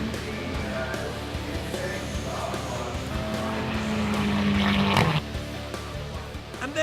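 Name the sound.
Mazda MX-5 race car crossing the finishing line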